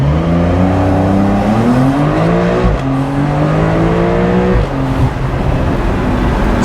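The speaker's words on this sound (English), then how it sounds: "So I'm gonna do a quick launch for you guys." A 2021 Porsche 911 Carrera Cabriolet launches hard in sport mode, its engine revving loudly and climbing in pitch through gear changes with brief dips between shifts.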